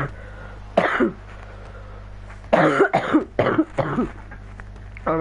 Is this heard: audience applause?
no